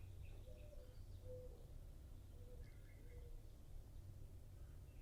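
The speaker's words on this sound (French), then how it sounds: "Vous percevez le chant des oiseaux" Birds sing faintly and far off beside a lake, with scattered short chirps and coos drifting over a steady low background hum.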